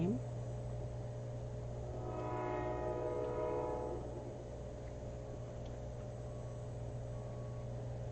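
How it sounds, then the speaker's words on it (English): A train passes in the background, heard as a faint horn-like tonal sound swelling and fading over a constant low hum of room and electronic noise. "I hear the train."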